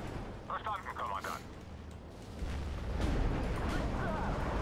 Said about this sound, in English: I got three cluster bombers. I'm gonna cluster all those tanks on the right.